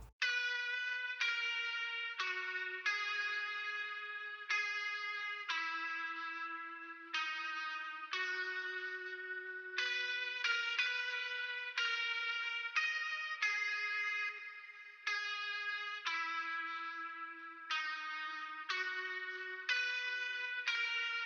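An electric guitar plays a clean melodic line of plucked notes, each ringing out with echoing delay and reverb trailing behind.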